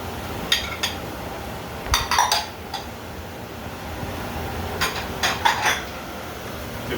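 Chicken and vegetable stir fry with yellow squash is stirred in a pan, with bursts of utensil clatter and scraping against the metal in irregular clusters, close and fairly loud, no talk.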